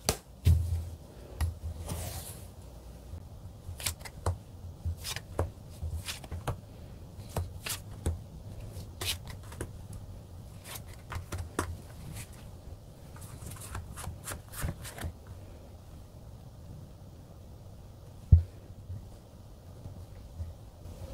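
Tarot cards being shuffled and drawn at a table, giving a soft run of quick papery riffles and taps that come in bursts through the first fifteen seconds, then a single sharper tap near the end, with no talking.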